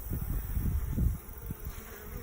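Honey bees buzz at a hive, a close, steady drone with low, fluttering pulses as wings pass near, heard alone for a couple of seconds.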